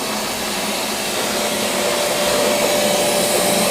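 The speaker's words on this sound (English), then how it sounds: "Might as well vacuum this out while we're here." A vacuum cleaner runs loud and steady while cleaning out a cabinet in a flooded house, a constant close roar with a faint high whine and no talking.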